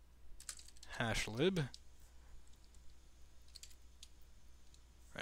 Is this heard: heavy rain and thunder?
no